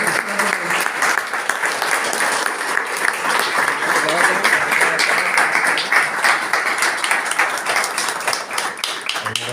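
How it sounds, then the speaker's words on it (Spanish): Sustained, fairly loud applause from an audience honouring a young illustrator named Mónica, with many hands clapping evenly throughout and no break. "un aplauso para Mónica"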